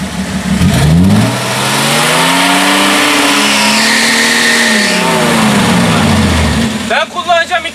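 Off-road Land Rover or Jeep engine revving hard, rising and falling in a long loud strained pull close by, with voices talking briefly near the end.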